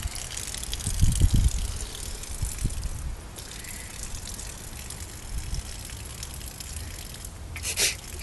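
Water from a garden hose gushes and splashes outdoors in a steady, noisy wash, louder near the start, with a brief bright squeal near the end.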